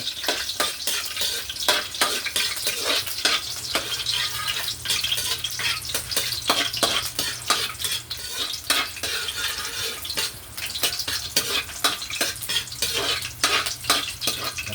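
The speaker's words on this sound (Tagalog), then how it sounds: "Gawin natin si bawang. Kunting siwar-siwar lang para maging golden brown." Garlic sautés in a pan toward golden brown, giving a loud, close sizzle broken by regular scraping stirs and clanks of utensil on metal, with no talking.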